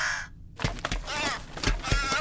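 Crow cawing in the film Antichrist, several harsh caws and rough croaks close and fairly loud over a low rumbling background, with no talk.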